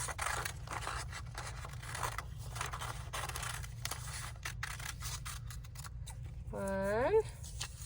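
Scissors cut out paper mummy eyes in a second-grade classroom, a soft continuous scraping cut close by, with a voice talking near the end.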